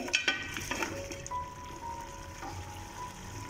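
Chicken for karahi frying in a pan makes a quiet, steady sizzle with a few clinks and stirring sounds near the start and no talking.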